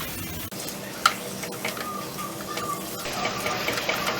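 Paneer bhurji with garam masala and green coriander sizzling in a pan, a continuous bright crackle with a few sharp clicks and stirring scrapes, no talking.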